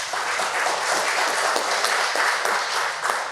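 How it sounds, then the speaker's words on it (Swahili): Steady applause from an audience at a business talk, a dense crackle of many clapping hands sustained evenly for several seconds without any voices. "Hiyo inataka makofi kidogo"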